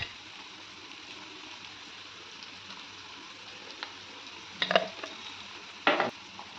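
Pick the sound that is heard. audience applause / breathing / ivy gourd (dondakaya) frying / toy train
ivy gourd (dondakaya) frying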